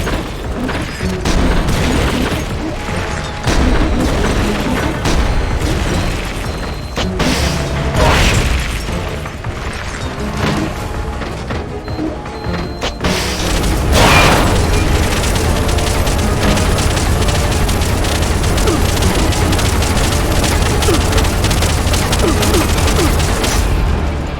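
Heavy weapon fire from the Cocoon AI weapon in Metal Gear Solid: Peace Walker, a sustained roar of booming blasts and rumbling mechanical noise, loud and continuous throughout with a brief lull before a denser barrage.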